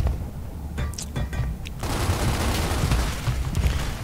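Gunfire rattles through a Gears of War esports match, with bursts of rapid shots and booms over a dense, loud game-action backdrop.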